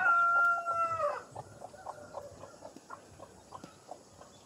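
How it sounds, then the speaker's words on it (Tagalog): A rooster crows loudly at the start, followed by a run of soft, rhythmic clucking from a chicken close by. "Yan ang ating manok."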